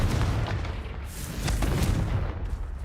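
Confringo fire spell exploding in the video game Hogwarts Legacy, a dense, continuous rumbling blast with heavy low-end booms and crackling bursts throughout.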